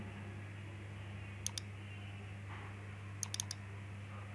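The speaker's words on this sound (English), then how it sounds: "I will click the shift key." Sharp mouse clicks and a shift key press while modeling in Mastercam 2021 software, two brief clusters of small clicks over a steady low electrical hum in a quiet room.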